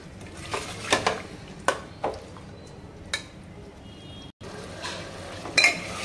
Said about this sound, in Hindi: टमाटर भी डाल देंगे और इनको 3-4 मिनट के लिए भून लेंगे।